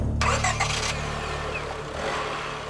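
A 1995 Honda Odyssey minivan's 2.2-litre four-cylinder engine starts with a brief cranking burst, then settles into a steady, moderately loud idle hum.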